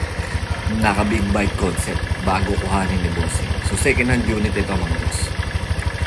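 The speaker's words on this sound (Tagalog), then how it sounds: "kung maririnig nyo yung tunog ng makina, napakalagitik" A second-hand Honda Click 125 scooter engine idles with a steady ticking clatter and pulsing low rumble, with someone talking over it throughout.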